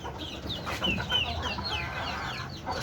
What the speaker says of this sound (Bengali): এই যে আমার একটা মুরগি